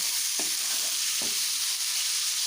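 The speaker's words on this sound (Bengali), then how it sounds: "পেঁয়াজটা দিয়ে ভালো করে নাড়াচাড়া করে নেবো পেঁয়াজটা দিয়ে এক মিনিট মতন একটু রান্না করে নিচ্ছি" Chopped onion frying in a pan for noodle chow mein with winter vegetables, a steady close sizzle with a few soft scraping stirs of a spatula, no voices.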